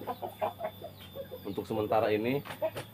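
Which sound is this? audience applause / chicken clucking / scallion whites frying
chicken clucking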